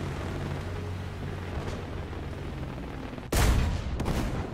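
Gunfire in the Charioteer video game: a quiet stretch of low rumbling ambience, then two sharp, loud shots close together near the end.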